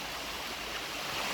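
A river flows steadily along a forest trail near waterfalls, a continuous close rushing wash of water with no pauses.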